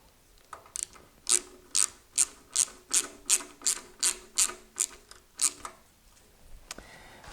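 A ratchet tightens a bolt into an Olds 455 engine block, giving about a dozen evenly spaced, crisp metallic clicks close up, with no talking.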